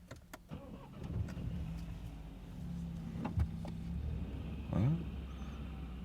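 A 2016 BMW 318i F30 with a cylinder 3 misfire cranks and starts, then settles into a low, slightly uneven idle heard at moderate distance, with a few faint clicks and whines over the engine.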